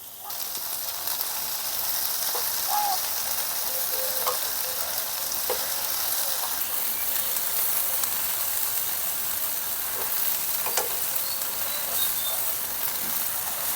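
Flipped prawn pakoras frying in hot oil, a continuous bright sizzling hiss held steady and close throughout, dotted with faint crackles and no voices.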